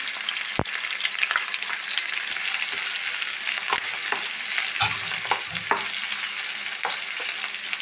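Green chilies, ginger and garlic sizzle steadily in hot oil in a pan, a continuous close frying hiss broken by a few sharp clicks and knocks of a spoon stirring.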